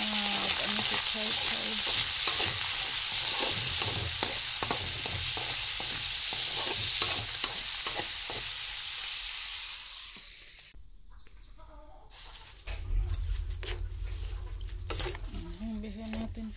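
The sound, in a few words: stirring pancit frying in a pan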